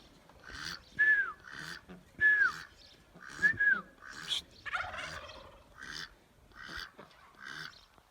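Repeated turkey gobbles ring out in a series of rattling bursts, roughly one every second, moderately loud against a quiet background.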